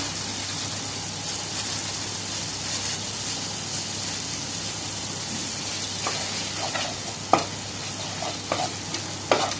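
Ground cashew nuts frying in oil for a potato dum, a steady sizzle joined in the second half by several distinct scraping stirs of a spatula against the pan.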